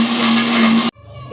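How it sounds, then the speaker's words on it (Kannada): Kitchen mixer grinder whirs loudly as it grinds paste for paneer gravy, a close steady motor whine that cuts off abruptly near the end, leaving quiet room tone. "ಮಿಕ್ಸಿ ಇವಾಗ ಇದನ್ನು ರುಬ್ಕೊತೀನಿ"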